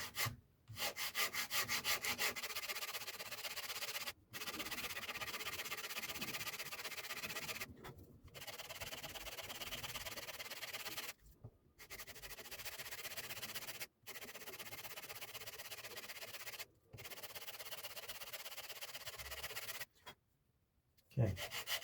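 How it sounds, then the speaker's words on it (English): Sanding by hand with an 80 grit sanding stick to get a flat surface, a steady close rasping rub in long strokes broken by a few brief pauses. "Got my my little sanding stick here"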